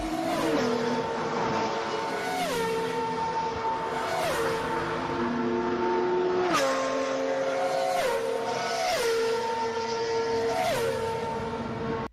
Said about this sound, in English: someone in Reddit made a comparison of the speed difference between GT and F1 cars